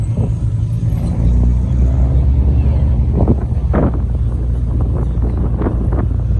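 A McLaren sports car passes on a city street at Place Vauban, its engine a steady low rumble buffeted by wind noise on the microphone, with a few brief louder mid-range bursts.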